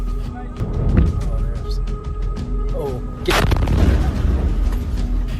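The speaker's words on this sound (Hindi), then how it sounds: "यहां अमेरिकी सैनिक ईरान के मिसाइल अटैक को रिकॉर्ड कर रहा था।" Booms from an Iranian missile attack sound in the distance, with a sharp blast near the middle followed by rumbling aftermath, over a faint background hum.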